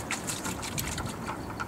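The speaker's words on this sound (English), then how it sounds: "splash a little water in." Water is splashed from a bucket into a concentrator pan during cleanup, giving close, irregular sloshing and spattering with brief bright splashes over a watery rumble.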